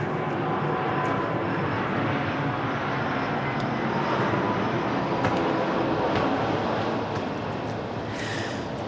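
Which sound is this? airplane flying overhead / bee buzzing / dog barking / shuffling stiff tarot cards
airplane flying overhead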